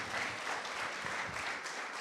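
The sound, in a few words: church congregation applauding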